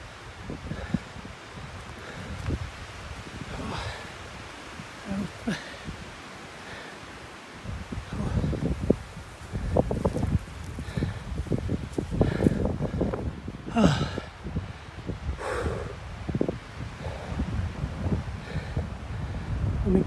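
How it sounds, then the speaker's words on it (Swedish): Strong wind buffets the microphone in rumbling, uneven gusts on a hike to Thokampen, Norway, with rustling and occasional breathy sounds mixed in. "Jäklar vad det blåste."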